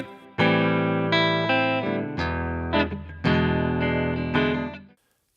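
Electric guitar through a clean amplifier with reverb added from a Line 6 POD HD 500X in the effects loop, playing sustained chords that ring out and fade with a reverberant tail, heard alone.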